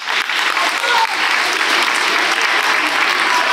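An audience claps for the children of a municipal youth council seated in the front row at a school eloquence contest, a loud, steady burst of dense applause that holds without pause.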